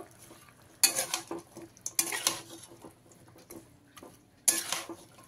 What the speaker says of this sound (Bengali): এবারে এর মধ্যে আমি 3টে মিডিয়াম সাইজের পেঁয়াজ কুচি করে নিয়েছি, দিয়ে দিলাম, দিয়ে ভালো করে মিশিয়ে নেব